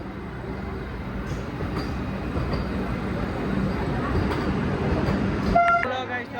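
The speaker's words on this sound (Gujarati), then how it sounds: "જો વંદે ભારત આવી ગઈ છે." A Vande Bharat train rolls into the Haridwar railway station platform with a loud, steady rumble that builds, and a bright horn blast sounds near the end. Voices murmur faintly underneath.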